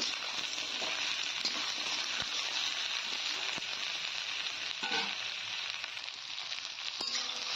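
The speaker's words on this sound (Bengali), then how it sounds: "নেড়ে চেড়ে লতিটাকে কিছুক্ষণ ভেজে নিচ্ছি।" Taro stolons (kochur loti) fry with onion in a pan, giving a steady, close sizzle with scraping stirring strokes and soft clicks of the utensil throughout, no voices.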